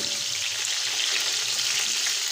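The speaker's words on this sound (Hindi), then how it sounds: "सारी चिकन पीसों को हमने फ्राई कर रहे हैं" Chicken pieces fry in a pot for chicken pulao, producing a steady, even sizzling hiss with faint low bubbling beneath, close and moderately loud, with no one talking.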